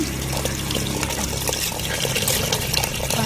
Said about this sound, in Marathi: एवढं पाणी टाकायचं आहे